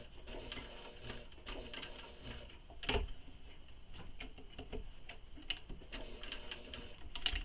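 A sewing machine stitches a handbag with a steady, fast ticking rhythm, with a few louder knocks mixed in, close by and with no voices.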